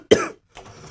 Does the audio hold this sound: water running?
no